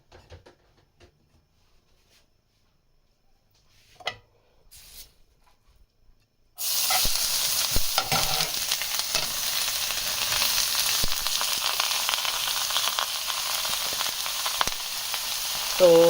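Shredded carrots dropped into melted ghee, near-silence with a few faint knocks at first, then a sudden loud hissing sizzle that bursts in around six seconds and holds steady to the end.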